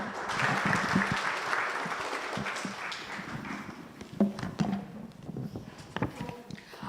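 An audience at a research launch event claps together for several seconds, steady applause that thins into scattered individual claps toward the end, with faint voices mixed in.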